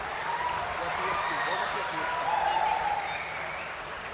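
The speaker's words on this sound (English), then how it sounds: "Let's give a big round of applause to all of our B.Tech degree graduates." Audience applause at a university degree distribution ceremony for B.Tech graduates: a continuous wash of clapping at moderate level with a faint crowd murmur, holding steady for about four seconds.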